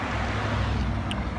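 Traffic on a busy main road makes a constant low rumble and wash of passing vehicles, nearby and fairly loud, with no talking.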